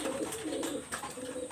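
Pigeons, young Pakistani high-flyer birds, give soft, low rolling coos close by, a few overlapping calls in quick succession.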